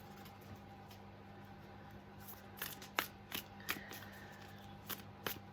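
Several short crisp riffles and snaps from shuffling a brand-new tarot deck, moderately close and fairly quiet, spaced through the second half over a steady low hum.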